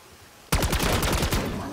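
Rapid bursts of video game gunfire in a zombies match at Liberty Falls erupt suddenly after a quiet stretch, a loud, dense volley of repeated shots that keeps going to the end.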